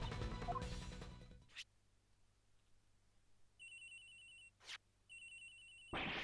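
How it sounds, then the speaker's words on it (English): A telephone ringtone from the Nintendo DS game Ace Attorney Investigations: Miles Edgeworth, chirping in short electronic bursts over a low hum after a musical passage fades out, with brief swooshing effects in between. "Agent X's phone. It's ringing from somewhere, sir."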